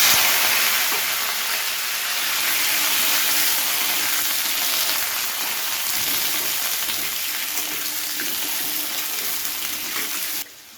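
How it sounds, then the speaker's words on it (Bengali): Potato pieces fry in a pan of hot oil after a spice tempering, a loud, continuous hissing sizzle that holds steady close by and cuts off abruptly at the end, with no voices. "প্রথমে আলুগুলোকে আমাদের ভেজে নিতে হবে।"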